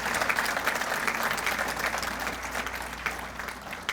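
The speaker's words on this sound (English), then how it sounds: "Just one more round of applause, all right, for everyone" An audience at an alumni association awards ceremony applauds steadily, a dense wash of many hands clapping at moderate volume that stays even from start to finish without talk.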